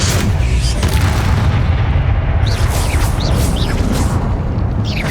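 Confringo fire-spell blasts in Hogwarts Legacy, a loud continuous booming rumble of explosions with whooshing magical bursts layered over it, dense and close throughout.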